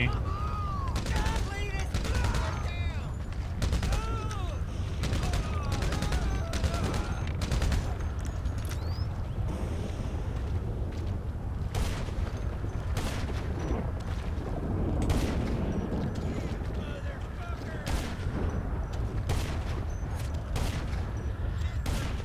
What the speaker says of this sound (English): First person machine gun OP.